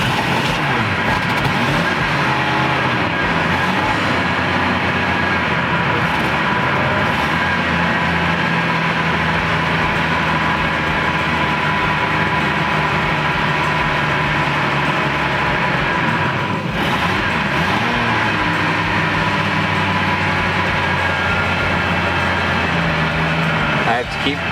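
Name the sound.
Jeep Cherokee engine starting and running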